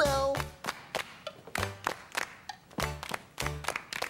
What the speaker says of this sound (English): Now it's going to be your turn to try the clapping part.